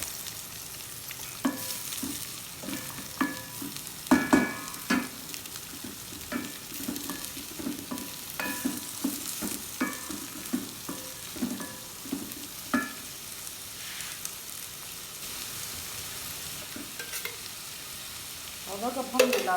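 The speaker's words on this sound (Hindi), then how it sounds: "अब हम उसी ऑयल में प्याज डाल देंगे जिसमें हमने भिंडियाँ फ्राई की हैं।" Onions sizzle and fry in the same hot oil and ghee used to fry okra for masala bhindi, with a steady hiss under repeated stirring scrapes and clinks throughout, close and moderately loud with no talk.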